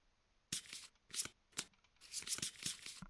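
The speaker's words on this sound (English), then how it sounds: "Shuffle them up a bit." Playing cards for the board game Kingdom Death: Monster are shuffled up close, several quick, crisp riffling bursts separated by short pauses in a quiet room.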